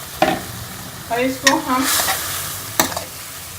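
Tenti (dela) berries frying in a yogurt spice masala, with stirring and sizzling clatter in bursts, the pan close and fairly loud, and someone speaking briefly over it.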